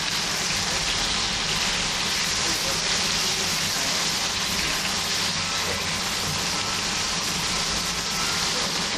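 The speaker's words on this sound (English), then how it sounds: "the steam's coming up. So what I'll do, it means it's boiling" A steady, loud hiss of steam rushing out of a pot of boiling rice, continuous and unbroken throughout with no pauses.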